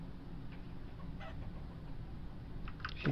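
Hen clucking in the Vintage Story video game, soft scattered clucks over a steady low ambient hum, with a slightly louder cluck at the end.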